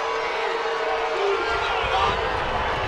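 Baseball stadium crowd at an NCAA game between Arkansas and Florida, a steady broad roar of many voices rising slightly mid-way, disgruntled murmuring and shouting spread across the stands with no single voice standing out.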